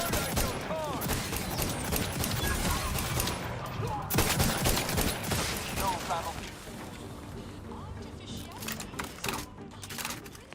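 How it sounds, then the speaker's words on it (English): An antimatter plasma sniper fires in a sci-fi shooter video game, producing dense rapid bursts of game gunfire and impacts that run continuously over busy in-game effects. "Antimatter plasma sniper."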